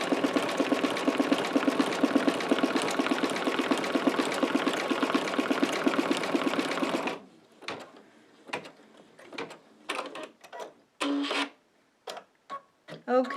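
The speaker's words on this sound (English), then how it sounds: "it is done stitching on the embroidery machine" An embroidery machine sews a blanket stitch around a card postcard held in the hoop, a steady loud rhythmic whirring buzz for about seven seconds, then it stops and brief handling clicks and rustles follow.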